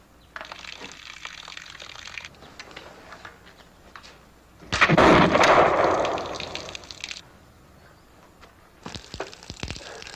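A single gunshot goes off in a frontier-era TV drama scene. There is a sharp, loud report with a long fading tail, set between quieter stretches of ambient noise.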